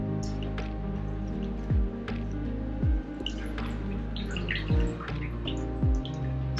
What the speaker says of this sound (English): I'll take a steak out.